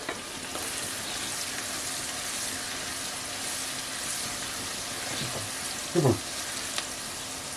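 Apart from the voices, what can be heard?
onions frying and caramelizing in a pot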